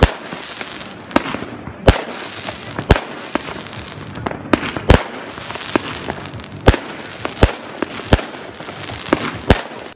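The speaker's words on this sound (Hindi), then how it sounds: "जब घड़ी पर 12 बजे तो आतिशबाजी का शानदार सिलसिला शुरू हुआ, जिससे दरियाए राइन पर खूबसूरत रंग छा गए।" New Year's midnight fireworks display over the Rhine, with loud, sharp bangs and crackling bursts firing repeatedly at irregular intervals over a continuous crowd and crackle background.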